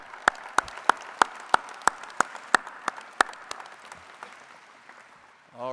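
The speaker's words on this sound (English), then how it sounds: "How about another round of applause for the Commissioner?" An audience at a university athletics graduation ceremony applauds the Commissioner with a run of distinct, sharp claps that thin out and fade away over several seconds, heard fairly faintly from a distance in a large venue.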